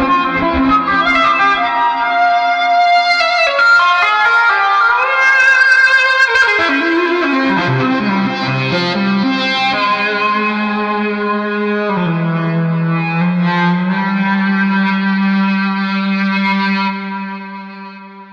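A LinnStrument electronic instrument plays a dense, sustained synth passage with heavy effects, echo and slight distortion, shifting chords and gliding pitches held loud and steady before fading out at the end, with no talk.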